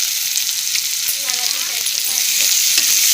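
Tomato and chillies being sautéed with dal in a pan, a constant hissing sizzle with occasional stirring scrapes, loud and close, no talking.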